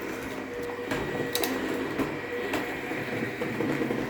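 A Roidmi Eve Plus robot vacuum cleaner runs indoors while mapping a bathroom, giving a steady close whirring drone with faint rattling clicks and brief bumps throughout.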